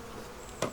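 Honeybees buzzing around a beehive, a steady faint drone with one brief louder buzz as a bee passes close.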